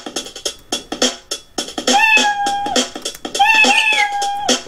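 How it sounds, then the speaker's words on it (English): The Scratch cat meow sound effect plays repeatedly through a computer during a programming lesson, a loud, clear electronic meow occurring several times in quick succession amid clicking. "play the sound meow"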